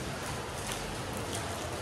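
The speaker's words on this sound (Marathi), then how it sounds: "5:30 वाजलेत आणि पाऊस चालू झालाय" Steady rain falls throughout, a dense even hiss of drops on surfaces at an outdoor gathering in Chiplun around evening, with no voices over it.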